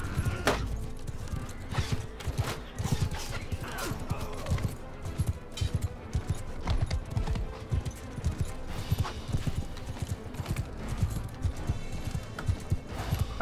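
Many horse hooves pound in a dense, continuous gallop, loud and close, with scattered clashes mixed in, during a battle in the video game Mount & Blade II: Bannerlord.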